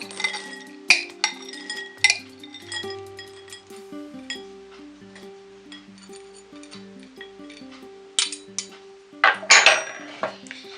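Utensils clink and scrape against a bowl while pasta is tossed for a Christmas dish, with sharp metallic taps and clatters at irregular intervals over soft background music, close and moderately loud.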